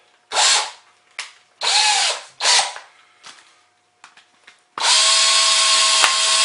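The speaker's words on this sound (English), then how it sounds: "Just helps to go with the smaller drill bit in that plastic." A power drill with a small bit drilling plastic whines in several short bursts, then runs steadily at high speed near the end, loud and close, with no voices.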